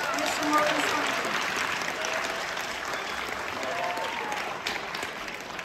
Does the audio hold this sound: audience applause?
yes